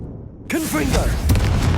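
A blasting spell explodes in a wizarding video game, a sudden loud boom breaking in after a shouted incantation, with a second impact rumbling shortly after.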